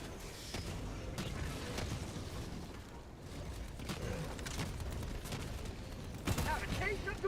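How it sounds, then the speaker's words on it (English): Mortar cannon shells firing and detonating in the Helldivers video game, a steady run of booming blasts and crackling impacts mixed with battle noise, with a sharper burst near the end and a voice talking over it. "Mortar cannon's doing its work."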